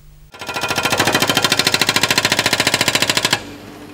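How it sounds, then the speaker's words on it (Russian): A jackhammer pounds at road works where new sewer manhole covers are being installed at a street intersection. One loud, close burst of rapid, even hammering runs about three seconds, then stops abruptly. "На перекрестке улиц Ленина и Чичерина идет установка новых канализационных люков."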